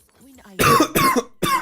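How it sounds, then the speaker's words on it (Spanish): Three harsh coughs come in quick succession, loud and close, after a faint murmur at the start. "Tengo tos de..."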